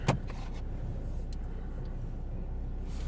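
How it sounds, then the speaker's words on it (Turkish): City car traffic in Kayseri rumbles at a moderate distance, a steady low wash of engines with a brief thump at the start, heard from indoors or from a parked spot with no talk. "Size şimdi Kayseri trafiğini göstereyim."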